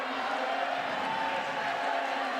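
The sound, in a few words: crowd cheering at women's boulder climbing final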